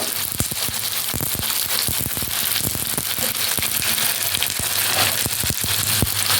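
Grated onion sizzling and crackling in hot oil with fried potatoes during village-style masoor dal cooking, a loud steady fry with scattered pops throughout, no voices.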